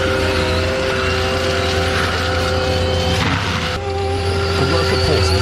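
A brush-clearing machine with a cutting disc roars close by, its engine holding a loud, sustained high whine as the throttle is opened, with a brief dip midway before it surges on.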